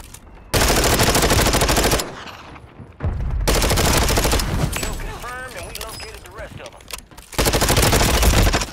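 The SVA rifle in Warzone 3 firing in long, loud sustained bursts of rapid automatic fire, separated by short pauses, with someone briefly talking in between.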